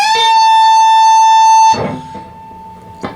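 A sustained, bright electric guitar note rings loud for nearly two seconds at the close of a song's solo, then cuts off into a few softer, scattered picked notes and a small final accent.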